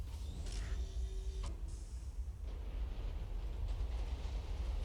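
A tram at a station in City of Heroes, a low rumbling rail drone with metallic creaks and a brief screech, steady and moderately quiet throughout.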